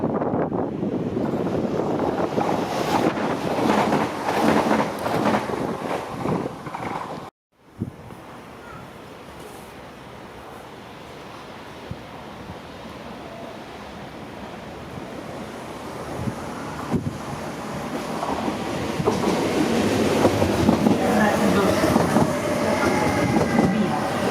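A train rushes through a station without stopping, a loud sustained rumble and rattle that swells, briefly drops out, then builds again as cars pass close by.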